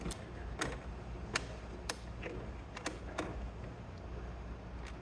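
Screws are tightened down by hand on a blend door actuator in a 1994 Chevy K1500, soft intermittent clicks and ratcheting ticks spaced irregularly over quiet background noise.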